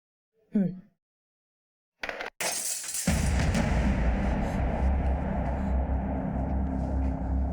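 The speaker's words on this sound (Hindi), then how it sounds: "अरे ये कांच किसने तोड़ा?" A glass window shatters with a sharp crash, followed by a sustained noisy clatter of falling shards. A short voice is heard just before.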